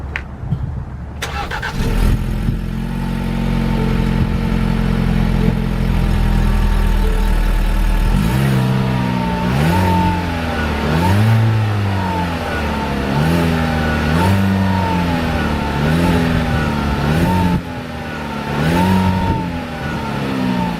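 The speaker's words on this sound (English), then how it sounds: "y'all can hear the exhaust right there. Nice little aggressive growl to it." A 2018 Ford EcoSport Titanium starts up on a freezing day, settles into a steady low idle, then its exhaust growls through a series of rhythmic revs, each rising and falling, loud and close with no talking.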